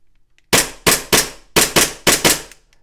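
Jag Arms Sand Viper Hi-Capa airsoft pistol firing seven sharp, snappy shots in quick bursts, loud and close, with brief decays between each crack.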